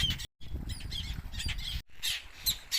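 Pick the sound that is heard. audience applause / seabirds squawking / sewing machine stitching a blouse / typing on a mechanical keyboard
seabirds squawking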